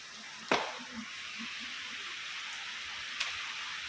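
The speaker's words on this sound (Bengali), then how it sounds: "দেখেন বৃষ্টি," Rain falls steadily as a soft, even hiss outdoors, with a couple of sharp drop or tap sounds standing out against the constant wash.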